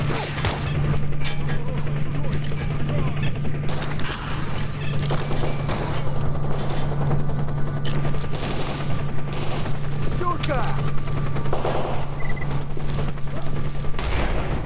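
A hostile helicopter gunship in the shooter Stalker Anomaly gives a constant droning rotor hum that runs the whole time, under loud bursts of machine-gun fire and gunshots, with a voice now and then.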